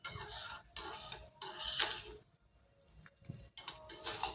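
Mustard seeds and urad dal sauté in a pan for a South Indian coconut chutney tempering. Quiet, intermittent spoon scrapes and clinks against the pan sit over a faint sizzle.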